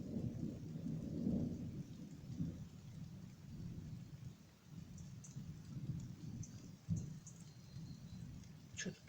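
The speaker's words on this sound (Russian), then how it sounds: "Что тут уже эту грозу снимать?" Thunderstorm with rain, faint and distant: low rumbling thunder rolls through a soft steady patter of rain, with a few sharp drips or clicks near the end.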